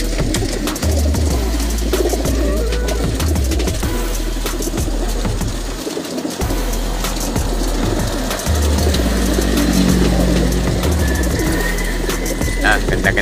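Racing pigeons from a club release in Cavinti, Laguna, with dense cooing, fluttering and flapping wings close by, over a constant rumble and scattered voices in the background.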